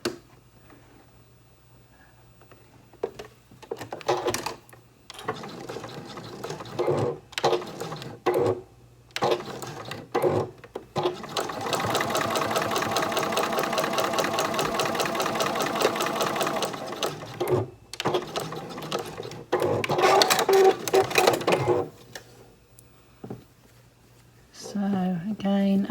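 A sewing machine stitches fabric seams for a scrap-pieced Christmas ornament, running in short bursts and then one long steady run of rapid needle strokes, with brief pauses and quiet handling sounds between.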